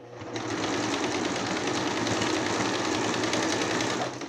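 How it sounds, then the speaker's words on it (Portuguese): A sewing machine stitches an overlock seam on a zippered cushion cover, running as a loud, fast, steady mechanical whir with rapid needle clatter from start to finish. "Estamos passando o ponto overlock."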